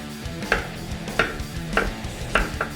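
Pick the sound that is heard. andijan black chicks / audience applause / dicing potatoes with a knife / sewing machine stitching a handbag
dicing potatoes with a knife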